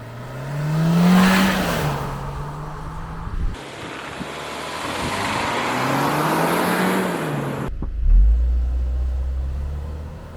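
A 2024 Kia Seltos SX turbo launches hard from a torque-converter brake-stand, its engine rising loudly through two long pulls with a gear change between them, then dropping away to a deep idle rumble.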